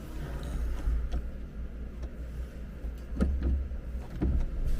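Power sunroof motor on a Kia Carnival opening the front roof panel with the engine off: a steady low electric hum running throughout, with a few faint clicks and light mechanical ticks along the way.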